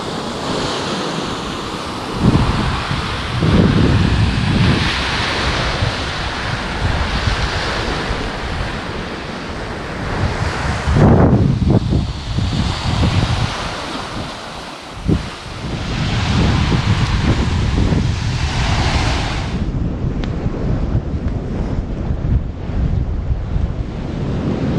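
Surf breaks and washes along a New England beach while wind buffets the microphone heavily. The roar is loud and continuous and swells and eases in waves, with no voices.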